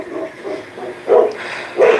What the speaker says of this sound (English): Colbert's barking and Frost is barking